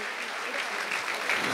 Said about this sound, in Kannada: ಇವ್ರಿಗೆಲ್ಲರಿಗೂ ಕೂಡ ನಮ್ಮ ಜೋರಾದ ಚಪ್ಪಾಳೆ ಬರಲಿ